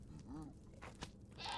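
A quantum goat in the Minecraft modpack FTB Skies 2 gives one brief, faint bleat, quiet and alone, followed by a few soft game noises.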